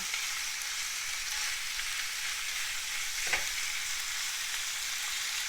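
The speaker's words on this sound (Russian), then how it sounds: "И на большом огне обжариваем его." Meat sears in a frying pan over high heat, giving a steady, even hiss and crackle throughout with one brief pop, with no talking.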